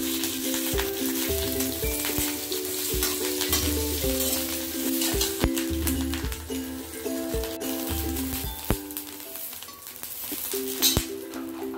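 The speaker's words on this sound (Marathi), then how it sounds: "हिरव्या मिरच्या मध्ये मध्ये 2 तुकडे करून त्या टाकून घ्यायचे आणि ते छान तेलावर भाजून घ्यायचे" Halved green chilies fry in hot oil, giving a steady loud sizzle with stirring and occasional clinks, with no talking.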